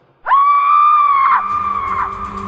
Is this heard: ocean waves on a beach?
no